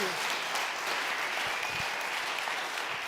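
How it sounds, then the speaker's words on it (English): Church congregation applauding, a loud, continuous burst of many hands clapping at close range, steady throughout with no talk. "we can clap for Bishop Karen first, because I know y'all are going to do that in a minute, but let's do it now."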